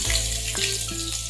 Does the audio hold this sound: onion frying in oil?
yes